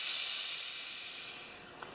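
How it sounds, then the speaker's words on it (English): Steady high-pitched hiss of air escaping from a Homelite XP1020 chainsaw during a crankcase seal pressure test, loud and continuous, slowly fading over two seconds. "That's quite a bit of air in there."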